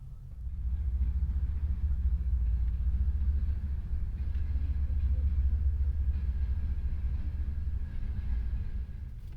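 A passenger train pulls out of Chisinau station in Moldova, bound for Bendery, with a steady low rumble and rolling noise from inside a carriage that holds constant throughout, no voices heard.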